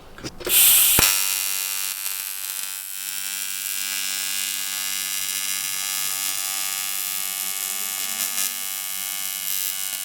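An angle grinder runs steadily on metal during a drift track build, a continuous high whine with a harsh burst at the start, close and loud with no talk over it.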